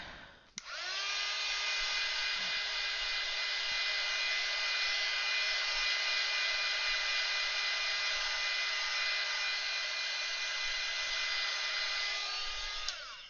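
Hair dryer switched on to dry paint on a painted flower piece, starting abruptly and holding a steady, loud whining hum with a bright motor tone for over twelve seconds before cutting off, no talking.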